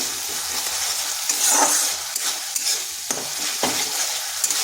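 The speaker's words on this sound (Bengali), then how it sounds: "মশলাটা একটু সময় ধরে কষতে হবে" Spice masala is sautéed and stirred in a kadai with a pinch of sugar, a close, loud sizzle broken by sharp scraping strokes of the spoon at an irregular pace, with no talking.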